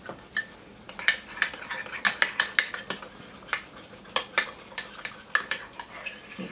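Spoon clinking and swirling through an organic agave-sweetened mustard dip in a bowl, a run of bright, sharp metallic taps and scrapes in uneven rhythm, close and clear with no talking.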